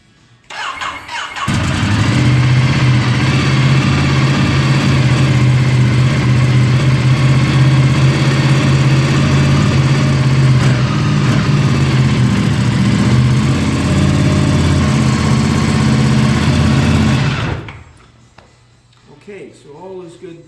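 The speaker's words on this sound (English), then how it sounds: "I'm going to go ahead and start the bike so that you can see it's in full running operation." A motorcycle engine fires up after a brief crank and idles loudly and steadily close by for about fifteen seconds, then cuts off, with a voice heard briefly after.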